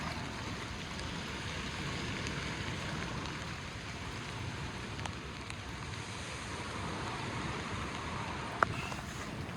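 Rain beating on a waterproof emergency bivvy outdoors, a steady dense patter of drops on the fabric mixed with wind, close and continuous with one sharper tap near the end.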